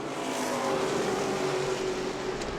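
Race cars lapping the New Smyrna track: a steady, dense engine roar with a droning pitch that holds level and then eases slightly, loud and continuous with no talk.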